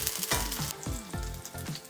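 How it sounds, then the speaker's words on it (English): Garlic sizzling in a couple of tablespoons of olive oil on a stovetop, a steady close crackle of frying with a few brief stirring scrapes cutting through, no voices. "We're going to add our garlic and just let it sizzle"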